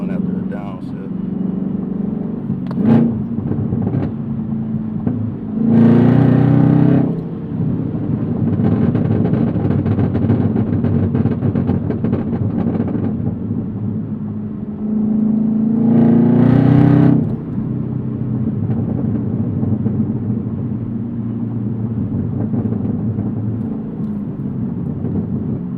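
Chevrolet Camaro engine drones steadily, then surges in two loud rev bursts as it is blipped through a downshift, with scattered exhaust crackles and pops in between, all close to the microphone.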